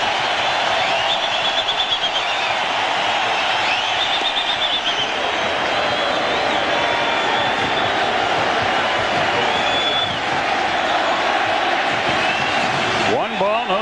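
Baseball stadium crowd at a 2000 Oakland Athletics playoff game roaring and cheering continuously, a dense loud wash of voices with whistles, sustained for the whole stretch.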